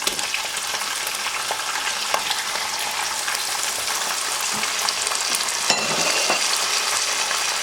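Sliced tomatoes fry with chicken and green chillies in a pan for a bhindi chicken dish, giving a steady, close sizzle with occasional stirring scrapes and no talk.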